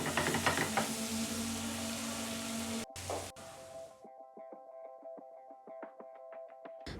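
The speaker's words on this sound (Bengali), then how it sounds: "চিংড়িটা আমার এখন লাল করে ভাজা হয়ে গিয়েছে।" Shrimp fries in a pan with chopped onion and green chilies. A loud, dense sizzle is cut off after about three seconds and followed by quiet, scattered clicks and taps of stirring.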